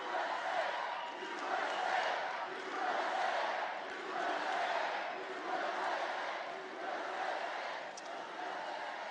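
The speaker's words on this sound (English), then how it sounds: "Wow. This is a nice crowd. Got a lot of people outside" A large political rally crowd at West Palm Beach cheers and roars in steady swelling waves, dense and continuous, with many voices blending into a loud sustained din.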